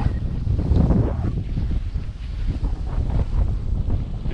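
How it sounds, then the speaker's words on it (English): Strong wind buffets the microphone in steady, rumbling gusts on Osage Lake, a dense low roar with no voices. "Well, it's pretty windy out here."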